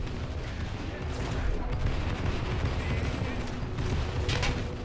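A BM-21 Grad multiple rocket launcher fires in a tank video game, a dense, continuous barrage of rapid launches and blasts with rumbling booms layered throughout.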